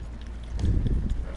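A horse's hooves clip-clop briefly in the Red Dead Online video game, a short run of dull, close thuds at moderate loudness.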